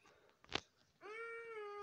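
A single drawn-out cat meow, clear and close, following a brief rustling crunch.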